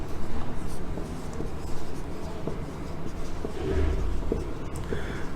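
Chalk or marker scratching across a classroom board as a teacher writes, with steady faint strokes under a continuous background hum and some speech.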